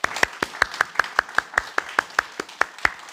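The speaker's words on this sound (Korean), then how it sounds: "오늘 세례받고 또 입교하신 모든 분들을 위해서 우리 축하와 격려의 박수" A church congregation claps to congratulate newly baptized members during a Korean worship service: a steady, evenly spaced series of sharp claps at moderate loudness with no talking over it.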